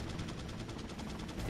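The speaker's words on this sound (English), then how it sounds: "They're having a great old time with the Gatling gun, anyway." A Gatling gun fires in a video game, a dense rapid rattle of shots running continuously and fairly loud with no break, without speech.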